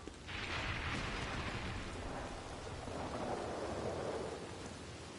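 Rain and rolling thunder in the video game Red Dead Redemption 2, a steady wash of rainfall under a deep, sustained thunder rumble, fairly quiet and without talk.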